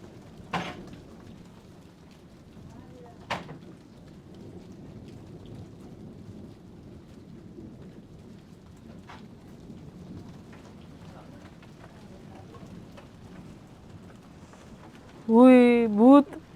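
Heavy rain pours steadily onto an outdoor family courtyard and veranda, with two sharp thunder cracks early on and a continuous dense hiss throughout, before a person's voice breaks in briefly near the end.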